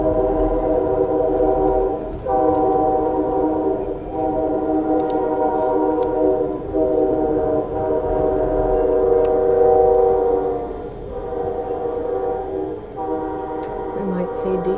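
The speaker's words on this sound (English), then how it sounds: "So there's the train cars that take the rice away." A freight train rolls past with a steady low rumble and a sustained horn-like drone, fairly loud and continuous throughout, with no voices.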